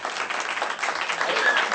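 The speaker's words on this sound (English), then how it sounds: "So please join me in a big round of applause for an extraordinary woman, Michèle Flournoy." A conference audience at Tufts applauds a keynote speaker, a brief, steady burst of many hands clapping in a hall, fairly close and even in loudness.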